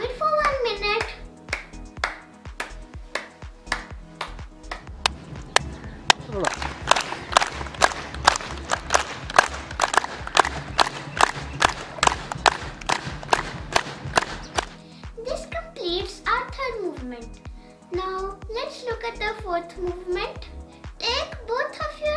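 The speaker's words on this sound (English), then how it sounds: "Take both of your hands and clap." Hands clapping together for a palm acupressure exercise, a long steady run of sharp, close claps in quick even rhythm, with a voice and other voices talking before and after the clapping.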